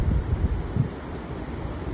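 Storm-swollen river breaking through at Morgan Bay and pouring out into the sea, a steady broad roar of rushing water and surf mixed with buffeting wind on the microphone, loud and continuous.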